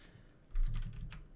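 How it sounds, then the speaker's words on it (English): Quick burst of keystrokes on a computer keyboard, a short cluster of soft close clicks heard alone at low level. "Now we can type that one out easily."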